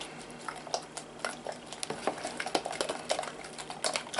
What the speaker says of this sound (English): now that you've really started to stir it